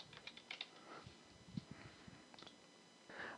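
Quick, light tapping of keys on a computer keyboard, faint and close, in an uneven run of keystrokes with no talking.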